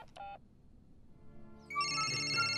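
A phone rings with a bright, repeating electronic tone that starts partway through after a short beep, steady and fairly loud.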